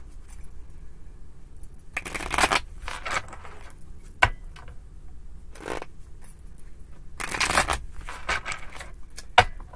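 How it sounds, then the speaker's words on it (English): Tarot cards shuffled in several brisk bursts of riffling and flicking, close and fairly quiet, separated by short pauses with a few small taps, no talking. "One more shuffle and we'll have it."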